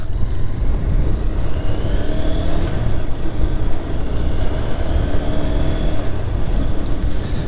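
A Lifan KP Master KPM200 200cc motorcycle pulls onto a state highway, its engine droning steadily under heavy, constant wind roar as it speeds up to highway pace.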